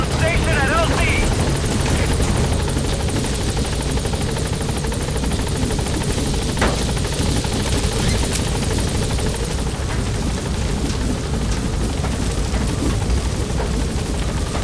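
Pequod, the support helicopter in Metal Gear Solid V: The Phantom Pain, arrives at the landing zone with a loud, steady rotor roar and engine drone that holds throughout, a brief thump partway in, and radio voices heard over it.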